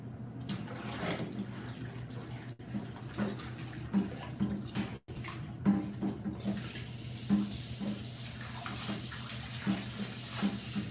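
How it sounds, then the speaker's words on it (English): A mixing bowl is rinsed out under a running kitchen tap, steady water flow with intermittent splashes and clinks as the bowl is moved about, continuous and close for the whole stretch. "Talk amongst yourself while I wash this bowl out."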